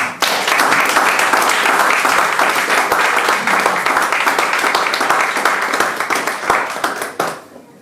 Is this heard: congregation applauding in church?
yes